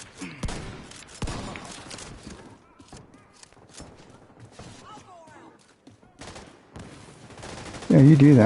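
Bursts of gunfire in a PvE video game shooter with a tinkerer shotgun build, sharp shots scattered through the clip with a loud, dense barrage at the end, heard among game sounds and voices.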